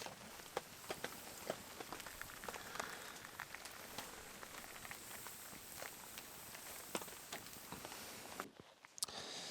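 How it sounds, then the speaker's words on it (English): Steady rain patters on a surface, a dense continuous hiss with scattered sharper drops, fairly loud and unbroken until a brief break near the end. "So the rain continues."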